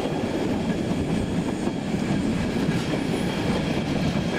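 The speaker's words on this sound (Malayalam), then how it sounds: "ട്രെയിൻ ബ്രൂണിച്ചുരം കയറി തുടങ്ങുന്നതിന് മുമ്പുള്ള പ്രധാന സ്റ്റേഷനിലേക്ക് പ്രവേശിക്കുകയാണ്." A Swiss train rolls into Meiringen station in Switzerland ahead of the Brünig Pass climb, with a steady, loud rumble of wheels on rails and a faint clickety-clack heard from inside.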